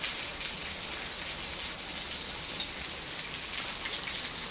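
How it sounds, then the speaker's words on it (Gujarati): A downpour in a village yard: a continuous bright hiss of raindrops striking surfaces, uniform and unbroken, heard alone at low volume. "વરસાદ પડે છે બહુ જ."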